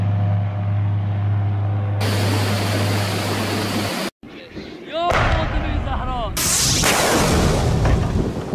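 Missiles launch during an Iranian naval exercise in the Persian Gulf, heard as loud roaring blasts and rushing thrust with sharp whooshes, close by.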